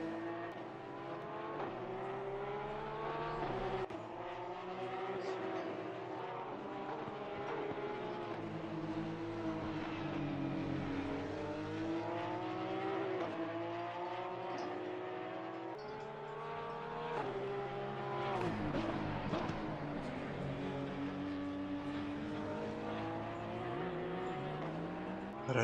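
Porsche Supercup race cars in Assetto Corsa Competizione, engines droning and revving through gear changes with rising and falling pitch, a steady loud motor note lasting throughout with brief shifts in tone.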